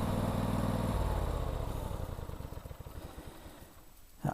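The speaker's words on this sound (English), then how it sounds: "There's the motor, the V-twin, 15 horsepower, which I'll now turn off." A Husqvarna CTH150 lawn tractor's 15-horsepower V-twin engine runs with a close, loud, throbbing drone, then is switched off and winds down through slowing chugs to near silence.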